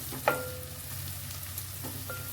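Soya mince with onion, salt and garam masala sautés in a pan, a soft steady sizzle with a light utensil clink near the start and faint stirring scrapes.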